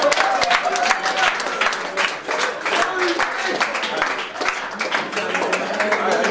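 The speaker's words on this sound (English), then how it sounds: "Big round of applause for Mohammed." Loud, close audience applause at a live hypnosis stage show, continuous dense clapping with a brief dip midway and voices mixed in underneath.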